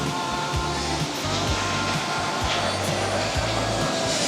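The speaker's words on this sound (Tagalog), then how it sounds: "Yan yung tunog ng tubig." Rushing water of a waterfall along a hiking trail near Hallstatt, Austria, a steady broadband roar heard from a distance with no one speaking over it.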